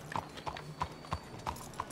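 A horse's hooves clip-clop at a slow walk in Red Dead Redemption 2, about six evenly spaced, close hoofbeats over a soft background hum.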